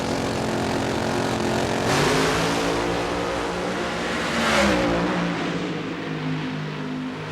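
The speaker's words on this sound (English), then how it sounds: "That car's hitting on all cylinders." Drag racing car roaring down the track at the Keystone Nationals in Reading, Pennsylvania, a loud, sustained engine howl that surges twice as it passes, with no talk over it.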